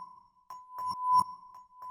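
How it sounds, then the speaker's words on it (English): A metallophone sample played once forward and once in reverse, a sustained bell-like ringing tone with soft swelling and clinking overtones, close and fairly quiet, with no talking. "which actually doubles the sample, so it's one time played forward and the other one is played backward"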